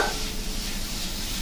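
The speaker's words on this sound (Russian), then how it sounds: "Добавляем наш соус." Sauce poured into a pan of hot Liège salad, a soft sizzle and frying hiss with light stirring, steady and close.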